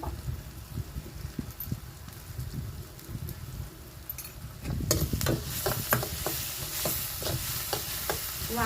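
Onion sautéing with salt in a pan, quiet crackle and scraping at first, then the sizzle swells and a run of quick spatula scrapes and taps follows, close and without talk.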